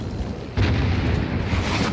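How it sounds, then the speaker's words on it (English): A grenade explodes in the video game Warzone, a loud low boom that bursts in suddenly and rumbles on for over a second. "Throwing a grenade."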